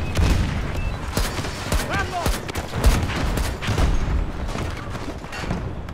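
Battlefield 2042 gunfire rattles in dense, continuous bursts with heavy booms and thuds, a loud chaotic battle soundscape with no clear pauses.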